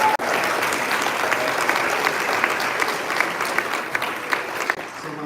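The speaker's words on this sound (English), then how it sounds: "So give those two a round of applause." An athletic banquet crowd claps for the two organizers, a loud, dense and sustained round of applause that fades slightly near the end, with no talking over it.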